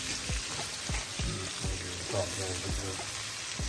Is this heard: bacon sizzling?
yes